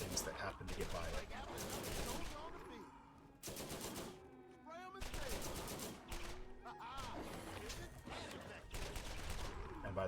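Turret and weapon fire in the video game Borderlands, dense bursts of shooting with pauses, clattering and effects layered over a busy game soundtrack, loud and continuous throughout.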